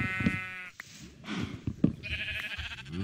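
Sheep in Minecraft bleat several times in short, wavering calls close by. Someone speaks German between and under the bleats.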